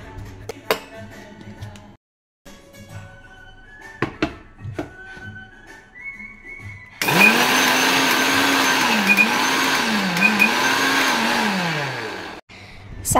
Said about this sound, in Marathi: आपण आता इकडे मिक्सरच्या भांड्यामध्ये सारसाठी लागणारं पेस्ट रेडी करूया